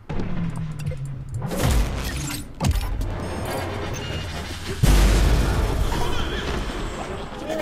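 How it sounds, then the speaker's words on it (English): A bomb goes off in the video game Remember Me: several heavy booms and crashing impacts land amid mechanical creaks and clanks, loud and close, with a particularly strong blast near the end. "Maybe I should use a bomb on one of them."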